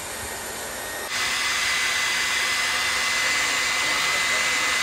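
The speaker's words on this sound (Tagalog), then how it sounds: "Hindi pa na plancha, blower pa lang yan guys." A hair blower drying hair after a straightening treatment in a home parlor-style setting roars with a steady, loud airflow hiss that steps up in intensity after about a second and holds constant.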